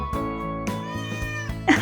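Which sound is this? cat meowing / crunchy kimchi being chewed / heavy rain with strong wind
cat meowing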